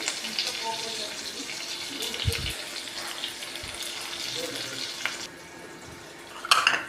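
Dried red chillies frying in hot oil in a pan, with a steady close sizzle, scraping stir strokes and a couple of louder clatters.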